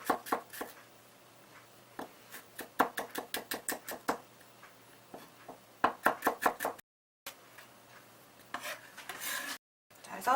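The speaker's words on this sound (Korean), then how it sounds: "자, 마늘도 다지겠습니다." Knife chopping garlic on a cutting board while preparing minestrone soup, with quick bursts of sharp, close knocks in rapid runs separated by pauses.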